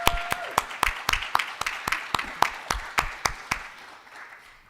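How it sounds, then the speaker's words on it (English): Sparse applause for school success, post-secondary and IT staff at a First Nations education event, about a dozen distinct claps in a loose rhythm, moderately close, thinning out and fading near the end. "I think they all deserve a big round of applause right now"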